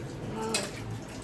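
Two sharp metallic clinks ring out a moment apart as utensils are washed quickly and knocked together, close by over a low background hum.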